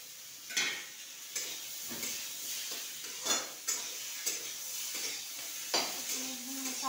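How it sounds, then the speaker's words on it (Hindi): Chopped tomatoes stir-fried with chickpeas in a pan, giving a steady close sizzle broken by regular clinks and scrapes of a spoon against the pan, with no voices. "हमने यहाँ टमाटर डाल दिया है, इसको पूरा एकदम अच्छी तरह से भून लेंगे"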